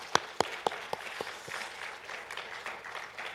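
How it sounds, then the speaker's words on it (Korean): Applause from a church congregation during an Easter Sunday service, opening with several distinct separate claps before settling into a faint, scattered patter of clapping that fades under quiet room noise. "이 시간에 우리 다시 한번 부활하신 하나님께 영광의 박수, 또 우리의 수고한 우리 EM 친구들에게 격려의 박수 함께 드리겠습니다"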